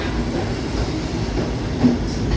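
A train at the JFK AirTrain station platform gives a steady, loud rail rumble with a faint metallic clatter, running continuously with no talking.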